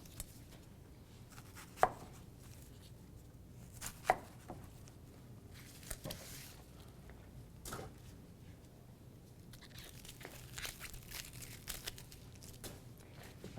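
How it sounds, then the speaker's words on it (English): A knife chopping an onion on a cutting board for a Spanish tortilla, with sparse, irregular sharp taps spread over a quiet background and no talking. "So we're going to first need to cut up an onion."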